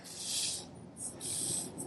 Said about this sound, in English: This is the down spray mode.